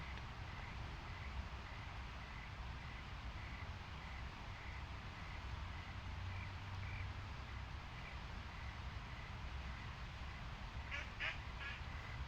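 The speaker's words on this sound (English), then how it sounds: "There's my friend the duck." A wood duck drake quacking outdoors in the morning, faint distant calls repeating at intervals over steady background noise, with a brief burst near the end.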